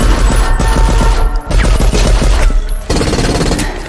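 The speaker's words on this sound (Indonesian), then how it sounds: "pacar pelaya tiba-tiba memberondong mereka dengan tembakan membabi buta" A film's sudden indiscriminate burst of gunfire: rapid, loud machine-gun-like shots in quick rhythmic volleys, continuing with brief pauses and no voices.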